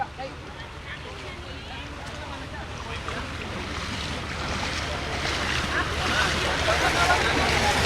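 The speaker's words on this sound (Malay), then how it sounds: "Ketika ini kelihatannya sebuah bot lagi baru sampai." A rescue boat arrives through deep floodwater during the December 2021 floods at Taman Sri Muda, Shah Alam, Malaysia. A continuous wash of water and engine rumble is mixed with heavy wind noise, growing gradually louder as it approaches.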